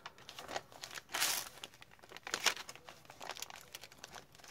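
Sheets of extra paper and tracing paper for a custom vintage leather junk journal crinkle and rustle as they are handled up close, with a few louder crunchy bursts among softer, intermittent crackles.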